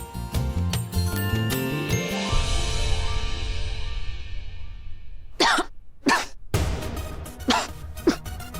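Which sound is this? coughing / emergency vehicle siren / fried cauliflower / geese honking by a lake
coughing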